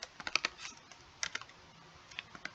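Code for a hangman game is typed on a computer keyboard: soft, close clusters of quick keystrokes with brief pauses between bursts, fairly quiet and with no voice.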